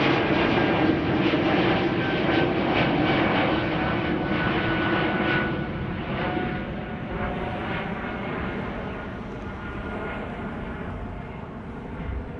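An airliner climbing high after departure from Amsterdam Schiphol gives a steady, strong engine roar that gradually softens and thins as it recedes, heard alone without voices.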